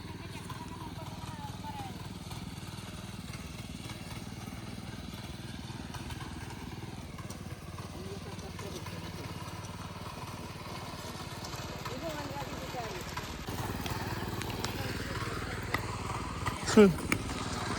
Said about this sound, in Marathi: मी फायनली ट्रॅक्टर आणि पेरणीला सुरुवात केली आहे.